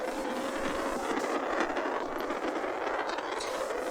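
The Polar Express train rolls by in a Roblox train game, a steady broadband rumble and rail noise with a faint tonal whine, holding at a constant level without a clear approach or fade.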